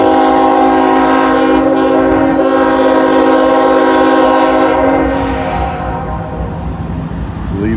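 A freight train of gondola cars rolls past near Hamilton on the Newcastle district, its horn holding one loud, long blast close by over the rumble of the wagons, fading slightly at the end.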